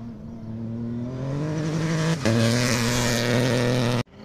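A Renault rally car accelerates on a gravel special stage in Occitanie, its engine rising in pitch through a gear change, loud and near, then cutting off abruptly.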